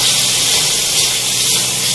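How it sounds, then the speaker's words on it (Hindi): Peshawari charsi mutton karahi frying in oil in a street-style wok, a loud, unbroken hiss of sizzling fat filling the whole stretch with no voices. "ये देखिए यहाँ हमारी कढ़ाई ने ऑयल छोड़ना स्टार्ट कर दिया है। देख रहे हैं आप लोग कितने अच्छे से ये भुन रहा है।"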